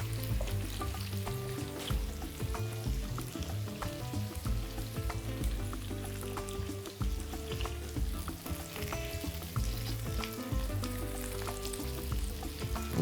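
Layers of cabbage fry steadily in a pan, a dense continuous sizzle and crackle with occasional stirring scrapes, close and alone without talk.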